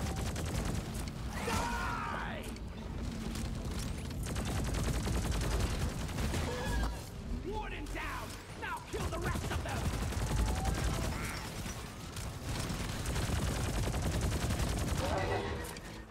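Sustained gunfire from a gun in Deep Rock Galactic, loud and continuous throughout, with dense rapid bursts and clattering mechanical noises layered in.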